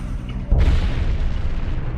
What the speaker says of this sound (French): C'était une explosion vraiment puissante et étonnante.